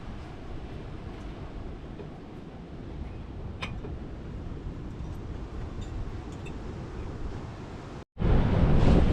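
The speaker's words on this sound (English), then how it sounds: "It's a little cloudy and windy today." Wind buffets the microphone on a cloudy oceanfront beach at Oak Island, North Carolina, making a loud, continuous low roar. A brief dropout is followed by a stronger gust.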